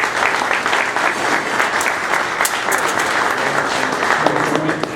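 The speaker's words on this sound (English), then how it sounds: "One more round of applause, please." A loud, steady round of audience applause at an Air Force Association meeting in Alpena, Michigan, many hands clapping continuously for the whole stretch without easing.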